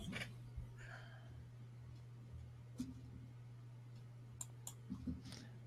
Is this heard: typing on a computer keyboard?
yes